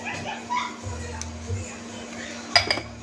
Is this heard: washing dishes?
yes